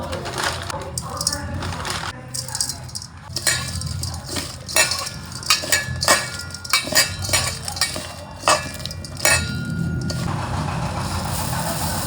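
Puffed rice being tossed and mixed by hand in a bowl with ginger, onion, cucumber and chili, giving repeated clinks and scraping rustles at close range, with household background noise and occasional voices.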